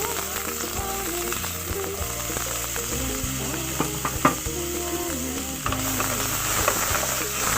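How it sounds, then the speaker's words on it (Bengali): Asafoetida, whole coriander and chopped onion fry in hot oil for a Bengali mixed dal, giving a steady, close sizzle with occasional stirring clicks throughout. "ভালো করে এটাকে লাল লাল করে একটু ভেজে নেবো।"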